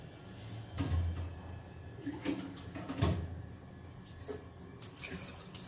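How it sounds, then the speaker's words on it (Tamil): Water poured into a cooking pot in a kitchen, splashing in several short bursts of varying strength with small clatters of the pot between them, fairly quiet and without talk. "நம்ம தேவையான அளவு தண்ணி ஊற்றிக்கலாம்."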